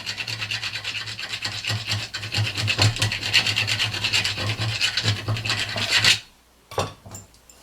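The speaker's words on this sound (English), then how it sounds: "So a rat tail file. A little bit of filing here." Rat-tail file rasping steadily on a custom C-clamp part, a continuous close scraping with repeated strokes and a low hum underneath, stopping near the end before a brief final scrape.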